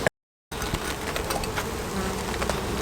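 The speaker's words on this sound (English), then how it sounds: "Oh, there's a bee on my camera." Worker bees buzz close to the microphone in a steady, dense hum after a brief dropout at the start, with faint sharper wing flutters passing near.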